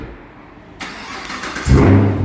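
A 2022 Chevrolet Camaro with an LT1 engine and muffler delete fires up at a quick-lube shop, with a sharp crank giving way to a loud, deep, rising rumble that swells near the end.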